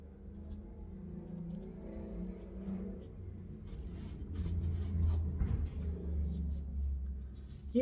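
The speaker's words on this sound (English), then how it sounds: "Y'all don't have to make all that noise with your cars." Cars rumbling and revving along a street outside, a steady low engine drone that swells louder midway as vehicles pass by, with faint indoor noises over it.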